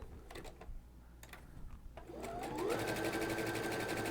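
Sewing machine fitted with an edge joining foot, running fast at a 0.9 setting: a soft tick or two, then the motor winds up into a steady rapid stitching whir, close and fairly quiet.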